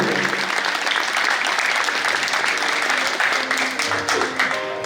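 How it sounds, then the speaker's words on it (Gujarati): Enthusiastic audience applause at a gathering honouring a young person taking religious renunciation, many hands clapping loudly and steadily, with some crowd voices and faint tones mixed in underneath. "જોરદાર તાળીઓથી એના સંતોની આપણે અનુમોદના કરીએ."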